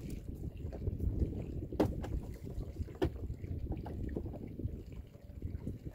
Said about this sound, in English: Windy today, huh, little girl?